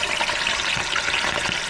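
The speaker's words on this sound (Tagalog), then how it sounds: "Ito, pirito na natin ng maskara." Pork mask sizzles and crackles loudly in hot oil at an outdoor cooking session, a dense steady frying hiss with scattered sharp pops throughout.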